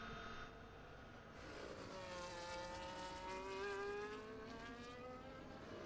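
Race cars in a sim racing league qualifying session circle the track, several engines droning and rising in pitch as they pass, a steady continuous roar with no talk.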